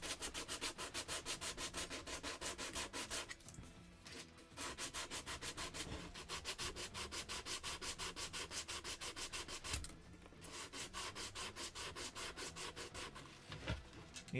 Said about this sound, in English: Do a little bit of hand sanding here and there.